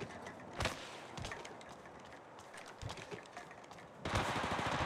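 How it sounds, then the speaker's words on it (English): Gunfire in the mobile battle-royale game Apex Legends Mobile: several sharp shots spread across the clip, then a dense burst of rapid automatic fire near the end, loud against a steady game background. "A second squad is firing at us."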